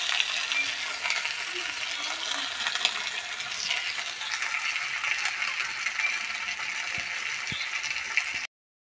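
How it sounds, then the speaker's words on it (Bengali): Chilli paste, salt and turmeric sauté in hot oil with a steady bright sizzle and occasional light scrapes and clinks from stirring. The sound stays close and even until it cuts off abruptly. "এবার এই মশলাগুলো ভালো মতো একটু কষিয়ে নেব"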